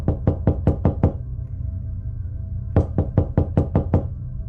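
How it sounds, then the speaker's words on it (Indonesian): Two sharp bursts of rapid knocking on a door, six raps each, loud and close, separated by a short pause over a low rumbling background. "Tiba-tiba ada seseorang yang mengetuk pintu."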